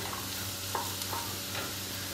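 Chopped vegetables and carrot frying in butter in a pan for a mushroom vegetable soup, a steady soft sizzle that holds at an even, moderate level throughout with a few faint stirring clicks.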